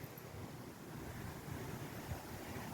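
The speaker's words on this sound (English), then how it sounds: "It's windy." Wind buffeting at a beach, a steady loud roar with rumbling gusts against the microphone and surf blending in, no talking.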